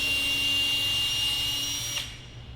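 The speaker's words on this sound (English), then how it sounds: "The screws are a little bit long, so we're using a drill just to make it go quicker" A cordless power drill whines steadily as it backs long screws out of a Dometic Atwood RV furnace cover, running loud and close for about two seconds before stopping abruptly, leaving a quieter background hum.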